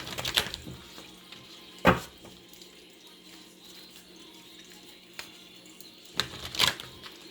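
Several bursts of a deck of cards being shuffled, crisp riffling sounds separated by quiet gaps, close and fairly loud.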